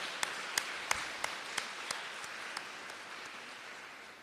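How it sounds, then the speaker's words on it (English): At a student recognition ceremony, an audience applauds award recipients with sparse, separate claps that start fairly crisp and thin out as the brief round of applause fades. "Can we get another round of applause for all of our recipients"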